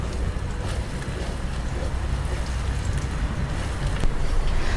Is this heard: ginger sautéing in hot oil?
yes